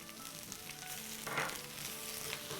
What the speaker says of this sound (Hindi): अब हम भिंडी की स्टिकीनेस को दूर करने के लिए सबसे पहले डाल देंगे 1 टीस्पून लेमन जूस।